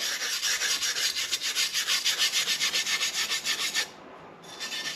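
A wire brush scrubs rust off metal in quick back-and-forth strokes, a rapid rhythmic scratching close by that stops briefly near the end.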